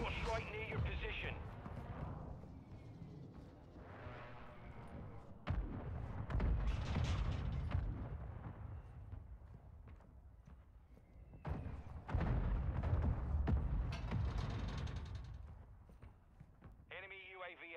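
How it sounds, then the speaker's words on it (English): Deep thudding explosions from an airstrike in a video game, several heavy booming bursts in waves between quieter stretches, with game voices and battle noise around them. "Hostile airstrike near your position."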